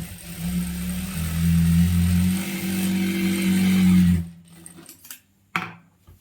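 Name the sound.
sewing machine stitching a churidar pant hem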